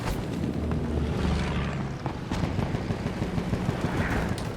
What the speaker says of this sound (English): the roaring engines of tanks and planes